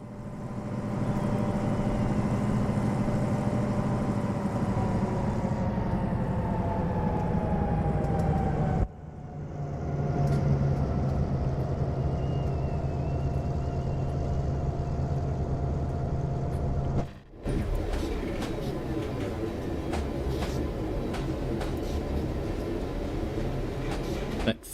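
Diesel locomotive engine running at notch 8 in Train Simulator, Rio Grande Tennessee Valley route: a loud, steady low droning rumble with a tinny, reverberant cab resonance, continuous throughout apart from two brief dips.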